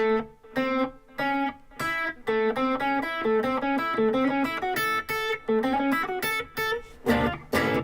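Electric guitar playing a blues lick, a run of clear sustained notes in a rhythmic riff with bends, ending on a denser strummed chord, alone without talk.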